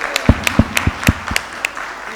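Sparse, scattered hand claps ring out from an audience at a medical talk on triple therapy for COPD, a series of separate sharp claps rather than a full roar.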